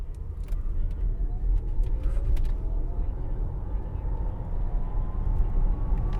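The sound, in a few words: Audi e-tron electric SUV accelerating from standstill to 60 mph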